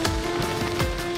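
Heavy rain with hail falling in Faisalabad amid cold winds, a dense continuous hiss of drops pattering on surfaces, steady and close with no pauses.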